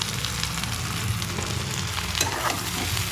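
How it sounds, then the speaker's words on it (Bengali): Sautéing potato, ridge gourd, coriander leaves, green chilli and spices with onions in a pan, a steady soft sizzle with scraping stirs and a sharper clink near the end. "এরপর পেঁয়াজের মধ্যে দিয়ে দেবো কেটে রাখা আলু ঝিঙে ধনে পাতা কাঁচা লঙ্কা মশলাগুলো সব দিয়ে দেবো একসঙ্গে"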